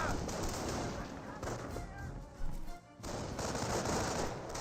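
Rapid bursts of rifle and machine-gun fire crackle on and off during a battle in the video game Company of Heroes, loud and layered, with a short dip in the middle and a voice briefly heard over the shooting.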